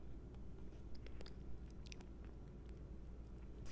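Someone chews a Trader Joe's cashew butter coated cashew close up, soft crunchy bites and wet mastication in a steady rhythm, quiet and alone with no talk.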